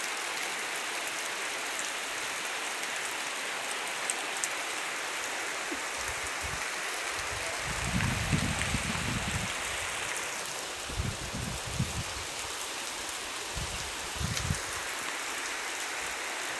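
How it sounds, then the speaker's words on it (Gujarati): Heavy rain pours in a constant, dense hiss, with a few low thuds now and then. "વરસાદ બહુ ફૂલ ચાલુ થઈ ગયો છે"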